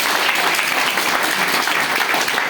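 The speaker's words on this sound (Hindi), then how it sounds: "तो आप सबके लिए एक बार जोरदार ताली" Loud, dense applause from an audience at a motivational class, steady and sustained throughout with no talk over it.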